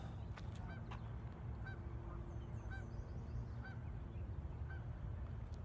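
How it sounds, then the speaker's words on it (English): Geese honk beside a river, a series of short nasal calls repeating every second or so at moderate distance over steady background noise. "Here's some birds in the background."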